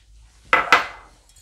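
A spoon stirs cocoa into hot milk in a cooking pot, giving two sharp, close metallic clinks a moment apart, with quiet background before and after.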